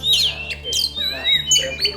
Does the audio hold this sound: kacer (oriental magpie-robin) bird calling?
yes